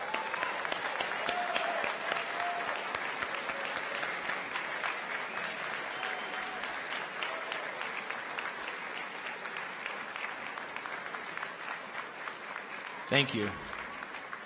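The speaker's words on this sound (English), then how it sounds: "I want you to give them an applause for being here today." Graduates at a BYU convocation ceremony applaud their families and supporters, a steady dense wash of clapping across a large hall that holds throughout, with a brief spoken thanks near the end.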